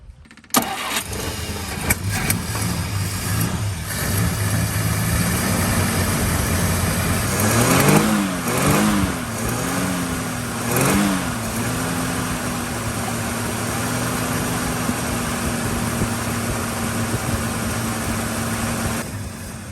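A 1951 Studebaker engine cranks and catches, then runs at a rough, low idle with a few brief revs midway, steady and close throughout with no talking.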